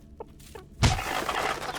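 A chicken in the video game Masters of Albion lets out a sudden squawking cluck as it gets kicked, sharp and close after a quiet lead-in with a couple of faint soft taps.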